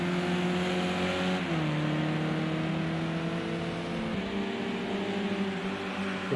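Onboard engine of a touring car lapping Donington Park in a racing sim, a loud, steady buzzing drone that steps down in pitch at gear changes and climbs again under acceleration, continuous throughout.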